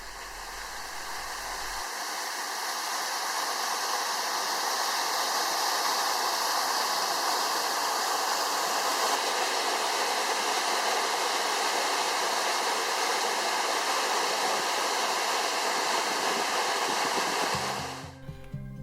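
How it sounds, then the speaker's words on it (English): A full waterfall in Kakadu National Park in hot, humid green season gives a steady, loud roar of rushing water that holds evenly throughout and cuts off abruptly at the end. "the waterfalls are full, perfect for cooling off in the hot and humid conditions"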